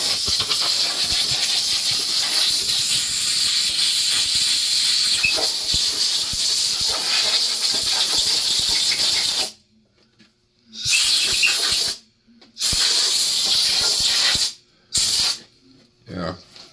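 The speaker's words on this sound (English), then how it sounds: "We'll get the air and blow it out." Compressed air blasts out of a freshly drilled hole in a VW air-cooled bus engine case: a loud, close, continuous hiss lasts several seconds, then stops and returns as a few shorter bursts.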